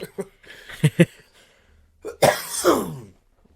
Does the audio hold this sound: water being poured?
no